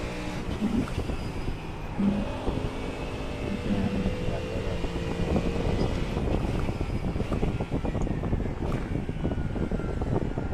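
A loud, steady V8 engine roar drones throughout, dense and continuous, with rumbling low end and wind noise buffeting the microphone.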